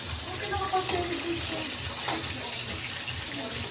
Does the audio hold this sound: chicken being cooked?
yes